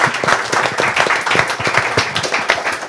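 A Ginza nightclub crowd claps together to celebrate Momoka's upcoming birthday, loud, close hand claps in an uneven, lively rhythm that stays steady throughout.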